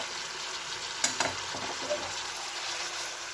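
Fish curry sizzling in the pan after a splash of raw oil, a steady hissing fry with a few quick clinks of a utensil against the pan.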